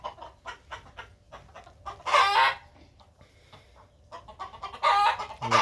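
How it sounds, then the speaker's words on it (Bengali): Fayoumi and native hens in a nesting coop cluck repeatedly in short bursts at close range, with two louder squawking outbursts rising above the steady clucking. "ডিমে বসছে ফাউমি মুরগি প্লাস দেশি মুরগি"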